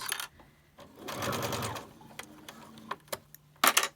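Sewing machine stitching a seam on a fabric surgical mask: a short, close burst of rapid needle clatter, followed by scattered clicks and taps as the fabric is handled.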